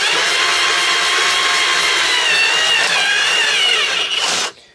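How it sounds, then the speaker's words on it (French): A drill bit bores a pilot hole in wood, a loud continuous whirring grind that runs steadily and stops abruptly near the end, with no talk over it. "j'ai fait un petit avant-trou dans le bois"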